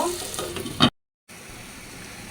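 Silver carp curry with potato and green beans sizzles and is stirred in a pan, a steady frying hiss with scraping, then a brief full silence before a softer, even sizzle resumes.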